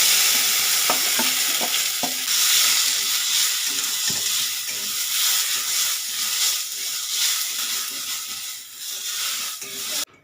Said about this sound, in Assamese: এতিয়া মই আগতে মুগ দাইলখিনি অলপ তেল নিদিয়াকৈ ভাজি লওঁ